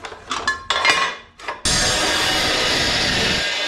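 Metal clanks and rings as scrap 1/8 inch steel angle iron is handled, followed by a loud, steady grinding cut-off saw chopping through it, continuous and close.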